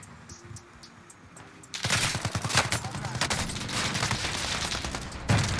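Rapid gunfire from Call of Duty Warzone erupts after a quieter stretch, dense automatic bursts rattling continuously and close, with a louder burst near the end.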